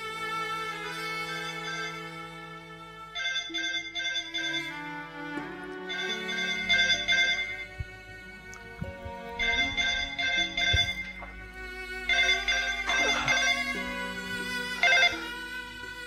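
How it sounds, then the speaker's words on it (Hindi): A telephone rings in a drama scene, a steady electronic ringtone sounding in regular repeated bursts over a soft musical background, with no one speaking. "हेलो परवीन, फोन किया तो बात क्यों नहीं कर रही हो"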